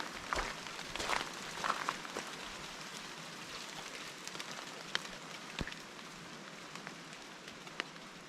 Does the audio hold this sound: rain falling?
yes